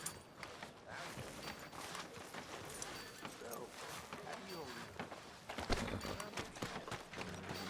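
Horse hooves in Red Dead Redemption 2 clip-clop steadily at a walking pace along a street, with scattered voices and ambient noise throughout; the footfalls grow a little louder toward the end.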